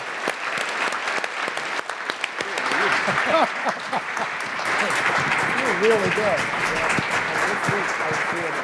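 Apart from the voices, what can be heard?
audience round of applause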